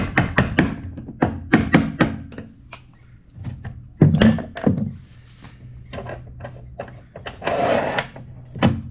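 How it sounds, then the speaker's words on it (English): A small hammer taps out a nylon end cap from a truck bed slide track, giving a series of close, irregular sharp knocks and thunks, some in quick clusters. "It's helpful if you have a little hammer to just kind of tap them out."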